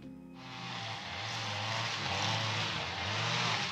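Heavy-duty strimmers clearing canes and self-seeded bushes at a ruined Portuguese farmhouse: a steady, buzzing two-stroke engine whine that starts suddenly and runs on, with a hissing cutting noise over it, fairly close.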